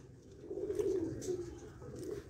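Breeder pigeons coo on a rooftop, a soft continuous low cooing close by with faint background sounds.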